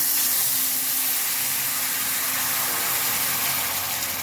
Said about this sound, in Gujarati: ત્રણ કપ જેટલું પાણી એડ કરી દઈશું મારી પાસે કેટલ છે તો મેં ડાયરેક્ટ ગરમ પાણી જ એડ કર્યું છે